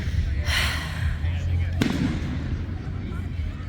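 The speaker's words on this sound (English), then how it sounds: "People over there are lighting off whatever fireworks they have." Fireworks set off in the distance at a Fourth of July celebration, a single sharp crack rising out of steady outdoor background rumble, faint and far away.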